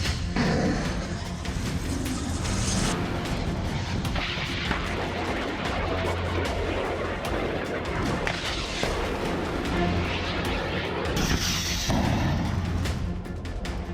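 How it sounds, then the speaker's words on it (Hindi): Heavy artillery cannon fire during a NATO military drill, with dense, continuous rumbling booms and blasts layered into a loud, unbroken barrage for the whole stretch. "तोपों की गरज"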